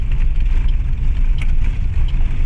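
A Caterpillar motor grader's engine runs loud and close on a road-widening concreting site, a heavy continuous low rumble with a few faint higher clicks above it.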